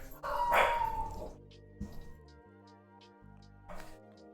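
A dog howls in a drawn-out, wavering cry, then gives a few short barks and yips, moderately close indoors, with an upset, agitated tone.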